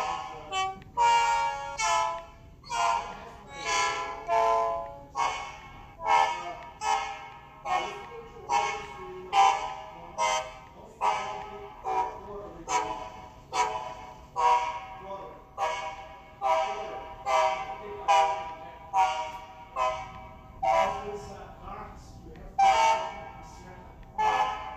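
Diesel locomotive horn from a TCS WOWDiesel model train sound decoder, sounding as a long series of short, evenly spaced blasts with a rich, reedy chord, loud and steady throughout.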